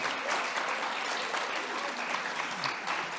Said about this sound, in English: So you all are on the round of applause.